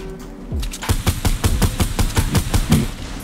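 Rapid bursts of automatic gunfire from enemy players in the video game Fortnite, a steady series of loud, evenly spaced shots rattling close by for several seconds.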